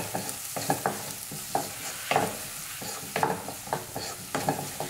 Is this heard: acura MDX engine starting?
no